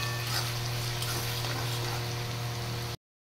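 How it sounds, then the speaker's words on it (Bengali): Potatoes frying in a pan give off a steady, even sizzle at close range with a low background hum, continuing unbroken for about three seconds before cutting off abruptly. "মানে আলু ভাজা চলছে।"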